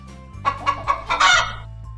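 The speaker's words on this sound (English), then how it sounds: "Chicken." A chicken clucks in a quick series of about five sharp, close calls, the last one louder and longer, over a low steady hum from a preschool animal-sounds toy.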